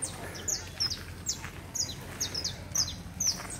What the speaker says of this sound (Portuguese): Barulhinho gostoso, os pássaros.